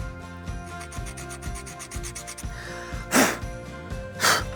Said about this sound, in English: so I'm gonna sharpen this